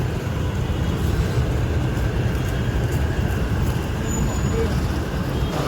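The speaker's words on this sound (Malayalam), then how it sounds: "നമ്മളങ്ങനെ ബസ് സ്റ്റാൻഡിൻ്റെ ഉള്ളിലേക്ക് പ്രവേശിക്കുകയാണ്" Inside a bus stand, buses and road traffic make a constant low engine rumble and roadway drone that stays steady and fairly loud, with no distinct pauses.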